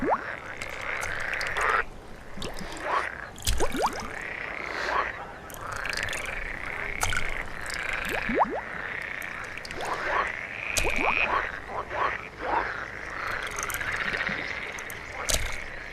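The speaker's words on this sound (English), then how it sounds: "where the air is filled with croaks and splashes" Rival frogs croak competitively in an alpine pond, many overlapping calls in uneven bursts, close and dense, with occasional splashes among them.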